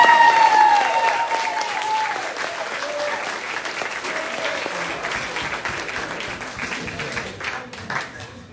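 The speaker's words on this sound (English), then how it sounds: "applause for his creation of the door." Audience applause at a school play performance, loud and dense at first and then slowly thinning across several seconds, with scattered individual claps and faint voices mixed in.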